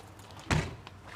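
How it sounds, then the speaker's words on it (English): A small trash trap door in a compartment of a 2021 Forest River Riverstone 39RKFB RV is opened with a single short thunk, close and fairly loud against a quiet background. "there's got a little trap door here for our trash"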